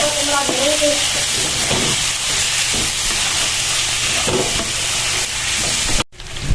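Chicken pieces fry in a pan for native-chicken tinola and give off a steady, loud sizzle and hiss with some stirring. The frying runs continuously, and faint voices sit underneath it.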